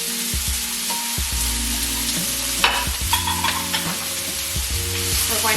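Chopped leeks sizzling loudly in a hot pan as they are stirred, a dense close frying hiss under repeated scraping and clinking from a utensil, with no one talking.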